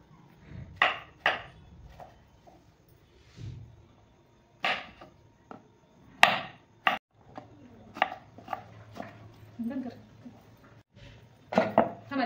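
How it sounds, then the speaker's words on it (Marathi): A knife chops tomatoes, onions and potato on a board in sharp, uneven bursts of close thuds separated by short pauses, with faint talk in between. "आता हे आपल्याला सगळं कापून घ्यायचं आहे।"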